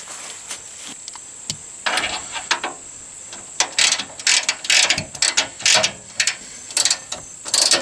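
A ratchet clicks in quick bursts while tightening an Allen bolt and nut on a Jeep Wrangler tube fender flare, sharp metallic pawl clicks close up with short pauses between strokes and a faint high whine behind.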